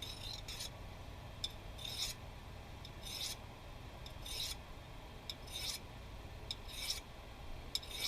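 A knife is drawn across a small field sharpener outdoors in a steady rhythm of about eight short, raspy strokes over a low, quiet background hiss, with no talking.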